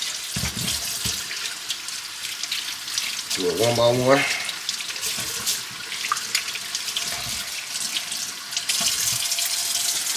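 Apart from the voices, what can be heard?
rinsing seafood under running tap water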